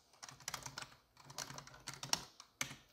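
Close, quiet clicking of computer keyboard keys as an email address is typed, irregular bursts of keystrokes with brief pauses, no talking.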